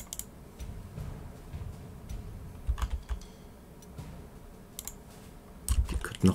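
Soft clicking during a Panzer Corps 2 menu session, a few light, scattered taps over a quiet background hum, close and faint, with a slightly louder cluster near the end.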